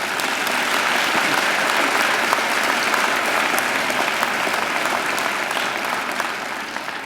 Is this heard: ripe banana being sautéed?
no